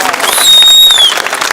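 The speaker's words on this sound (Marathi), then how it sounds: "जेवढ्यानी टाळ्या वाजविल्या" A crowd at an outdoor political election rally in Rajur, Akole, bursts into loud clapping and cheering with shrill whistles, close and dense for a brief moment.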